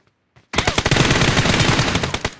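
Rapid automatic gunfire bursts in the PUBG Mobile shooter game, loud and dense for about two seconds after a brief faint shot, with no talking.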